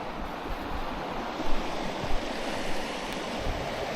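The San Juan River rushes steadily through a desert canyon below the Honaker Trail in Utah, a continuous broad wash of flowing water, with no voices.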